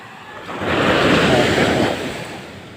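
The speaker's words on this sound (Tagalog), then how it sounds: "Sabi sa Tagalog, malaki ang alon." Big ocean waves break along the coast at Borongan, a steady roar of surf and wind that swells loudly through the middle of the clip and then eases off, with no voices.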